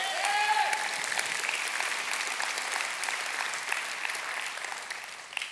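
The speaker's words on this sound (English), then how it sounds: "give the Lord a hand clap of praise" A church congregation bursts into sustained applause, a dense, loud wash of many hands clapping that holds steady and then begins to fade.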